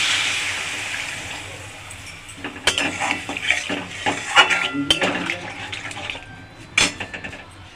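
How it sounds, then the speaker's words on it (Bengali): Water being poured into a pan of fried sweet potato and mango for chutney: a steady rushing hiss of liquid at first, then clinks and scrapes of a utensil against the pan. "এবার আমি পরিমাণ মতন জল দিয়ে দেবো।"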